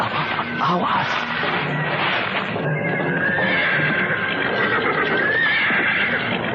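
Horse neighing and whinnying amid hoof clip-clop at night in an Indonesian horror drama scene, continuous and fairly loud with busy background noise and music.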